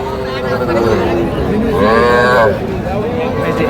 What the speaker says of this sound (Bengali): দুইটাই বকনা বাছুর দুটা সাইওয়ালের কিন্তু অরিজিনাল সাইওয়াল না